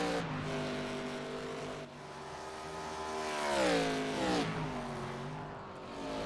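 Race cars in the iRacing sim at Road Atlanta scream down the back stretch, engine notes rising and falling with gear changes and a shifting pitch as cars pass, steady and loud throughout.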